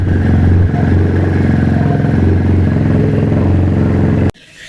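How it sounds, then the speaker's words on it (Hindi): An UM Renegade Commando 300 motorcycle with its stock exhaust's baffle removed idles loud and close, a deep, throbbing, rapid-fire exhaust beat that holds steady and then cuts off abruptly near the end. "मजेदार साउंड दे रहा है इस वक्त बाइक, क्योंकि इसका बैफल निकाला हुआ है"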